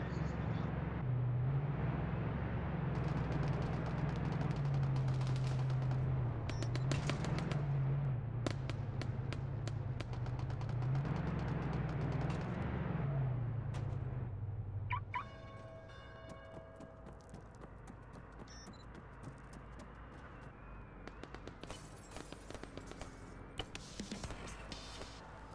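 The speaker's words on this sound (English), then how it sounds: "there's a lot of gunshots going off" Scattered gunshots crack repeatedly in the Arma 3 military game, some near and some distant. A low vehicle engine drone runs under the first half, and the shots continue more sparsely afterward.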